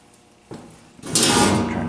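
Metal coin door of a 1969 Bally Hoo pinball machine is unlatched and swung open, a soft click followed by a louder scraping clatter as it opens, close up with no speech.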